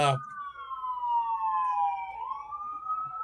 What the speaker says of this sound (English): There's an ambulance. It drove by my house.